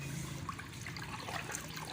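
Water trickles and pours steadily into flour (maida) being mixed into a boondi batter, a soft continuous watery splash with no talking.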